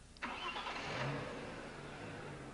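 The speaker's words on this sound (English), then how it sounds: "Start the engine." An Audi B5 S4 car engine with its turbocharger system just reinstalled cranks briefly and catches, then settles into a steady, fairly loud idle close by.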